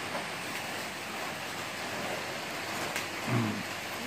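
Heavy rain falling at night during a cargo run to a village, a steady broadband hiss throughout with a brief low thump near the end, no voices.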